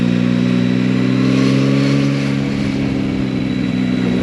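Engine note of a Yamaha Tracer 9 GT motorcycle on a test ride, a loud, steady droning hum with a slight rise and fall in revs, heard alone close up.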